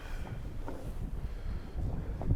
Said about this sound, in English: It does look like it's getting windy